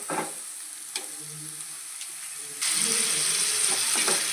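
Pieces of gummadichukka sea fish drop into hot oil, and a quiet crackle suddenly surges into a loud, dense, sustained sizzle that stays close and strong.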